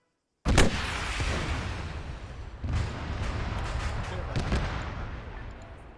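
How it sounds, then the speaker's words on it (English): Weapons fire during a video game military training session: a sharp, loud blast followed by a long rumbling tail, with further booming shots layered over it. "Firing."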